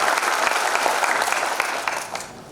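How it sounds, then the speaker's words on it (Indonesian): An audience at a formal government briefing on excise rules claps together in a dense burst of applause that fades toward the end. "Tepuk tangannya gimana, Pak?"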